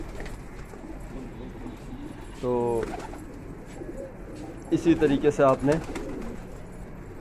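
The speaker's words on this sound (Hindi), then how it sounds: "तो देख लो कबूतर पानी पी रहे हैं" Pigeons drinking water give soft, throaty coos, first a short call and then a burst of rolling coos a few seconds later, close by, while someone talks over them.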